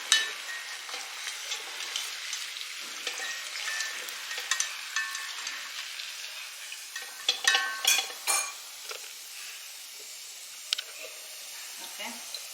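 Chicken samosas fry in hot oil with a soft, steady sizzle and bubbling. A few sharp taps of a utensil cut through it, and a voice talks quietly in the background.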